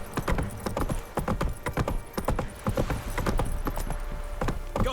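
Horse hooves galloping in The Witcher 3, a steady fast clip-clop rhythm of repeated sharp hoofbeats over a constant background, close and prominent with no talking.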